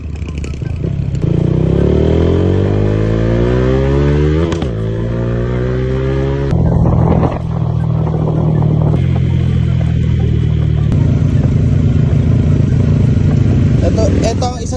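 A Malaysian Sniper 155 motorcycle with a quiet exhaust rides along at close range, its engine steady and shifting pitch through gear changes, with rattles from rough road and a tricycle nearby.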